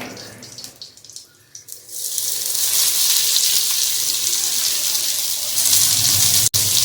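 Sliced onion frying in hot oil with a piece of cinnamon, cardamom, a clove, pepper and a chilli: a loud, steady sizzle that builds after a quieter opening with some clatter and stays close throughout.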